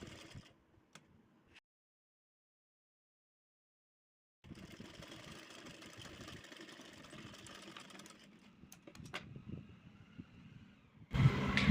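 A sewing machine runs steadily for several seconds while stitching a blouse, with a whirring hum at moderate loudness, after a quiet stretch and a few faint clicks, ending in a louder thump.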